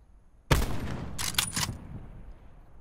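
Gunfire in Call of Duty Black Ops 4 Blackout: a sudden close burst after a quiet moment, followed by a quick cluster of sharp shots that fade into a decaying tail, with no voices.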